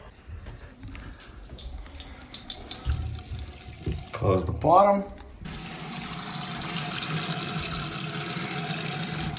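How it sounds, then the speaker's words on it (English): Water from a jacuzzi tub faucet starts after brief speech and fumbling with the valve, then runs as a steady, loud rushing stream for several seconds. "Slowly open the water."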